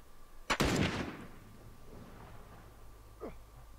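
A sudden, loud gunshot burst with a sharp crack and a rolling echo, fired in The Last of Us video game, followed by a quieter tail and one faint brief sound near the end.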